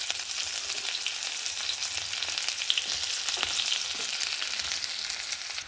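Chopped onion sizzles steadily in hot mustard oil already tempered with cumin and bay leaf, a continuous close frying hiss with no talking, as part of a Bengali cabbage curry.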